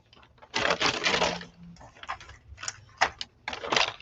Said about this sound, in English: I'm sorry you have to listen to me shuffle this bag